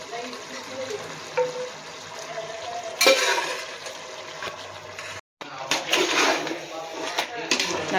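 Mutton biryani being stirred in a cooking pot, with sizzling and scraping of a spoon against the metal, a sharp clatter partway through and a short gap before the frying resumes.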